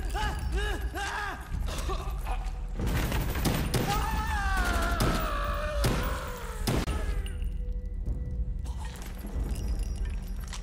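Gunfire in Call of Duty: Black Ops, a dark level, comes as a dense burst of rapid shots with sharp cracks and mechanical rattles, loud and close over game ambience.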